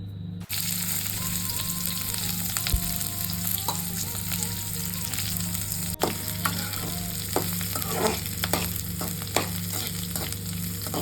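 Ridge gourd being sautéed in a pan for kootu, with a steady oily sizzle and occasional stirring scrapes and clicks over a low constant hum throughout.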